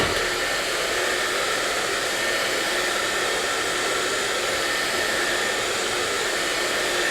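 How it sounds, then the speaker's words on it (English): A hair dryer blow-dries hair past the part line, giving a steady, loud, unbroken whoosh from start to finish. "you will be blow drying past the part line"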